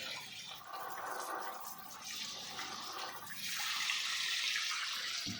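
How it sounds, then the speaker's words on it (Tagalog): Water from the municipal supply pours into a crayfish pond, a steady splashing gush with hissy spray that swells louder midway and keeps running continuously, close by with no talk. "dagdagan natin yung tubig"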